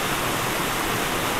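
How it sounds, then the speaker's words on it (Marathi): Small waterfall deep in dense Konkan forest near Choravne village, a steady, loud broadband rush of falling water that runs unbroken and alone throughout. "अत्यंत छोटासा असा धबधबा आहे"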